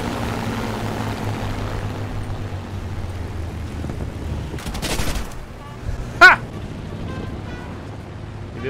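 In a video game, anti-aircraft fire rattles and an airplane goes down. A low engine drone runs throughout, broken by a dense burst of gunfire midway and a sharp loud impact later, with faint voices in the background.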